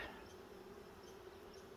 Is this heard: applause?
no